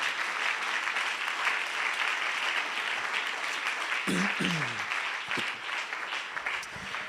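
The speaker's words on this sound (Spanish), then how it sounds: "Dele ese aplauso al Señor" Church congregation applauding steadily for the full length, a dense sustained clatter of many hands, with a voice speaking briefly over it midway.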